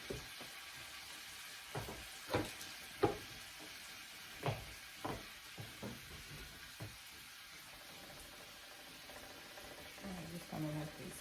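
Salmon, shrimp and garlic cooking in a hot pan, with a steady quiet sizzle broken by a series of sharp clatters and stirring knocks, a few seconds apart.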